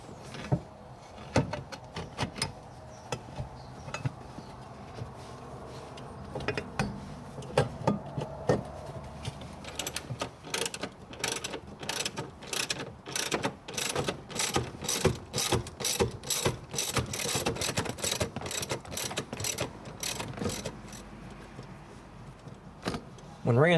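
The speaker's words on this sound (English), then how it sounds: "now we're ready to install the transmission cover" A hand ratchet clicks in quick bursts while a transmission cover for a Hurst shifter is fitted on a Dodge Challenger, sparse at first, then rapid, steady clicking from close by with faint clinks between.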